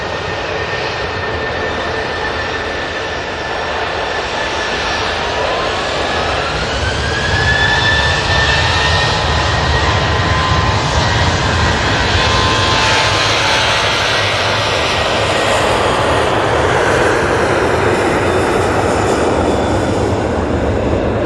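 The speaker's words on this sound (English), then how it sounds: "we got the Aer Lingus A330 touching down" An Aer Lingus Airbus A330 touches down at Manchester Airport, a loud, steady jet roar holding for the whole stretch, with a whining engine tone sliding upward midway.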